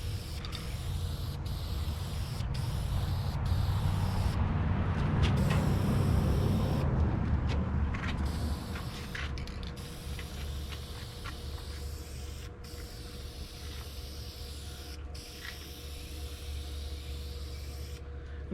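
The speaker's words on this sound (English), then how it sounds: "Long spray patterns across the whole piece." Spray painting a part for a Firebird car: a continuous hissing spray swells in the middle and fades, broken by regular sharp clicks of the gun trigger, close by with no voices.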